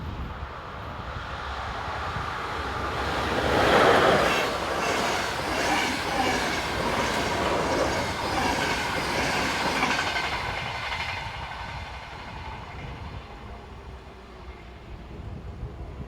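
A Slovakian Railways class 350 electric locomotive hauls a EuroCity passenger train past with rising rumble and rhythmic clacking of wheels over rail joints, peaking midway and fading as it moves off.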